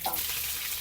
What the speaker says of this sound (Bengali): কড়াইটা নামিয়ে কারি পাতা দেব, নাহলে জোর ছিটকবে।